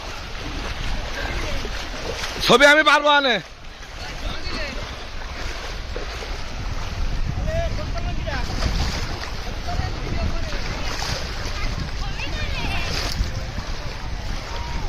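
Waves breaking on the sea beach at Jinjira during a crowded bathing festival, a constant roaring surf wash throughout, with a brief louder burst early on and people talking over it.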